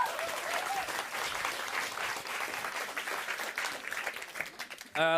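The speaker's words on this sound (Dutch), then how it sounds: "Dames en heren, Christian Triebert, applaus." Steady applause from a crowd fills the whole stretch, dense and continuous, with a brief burst of something louder at the very end.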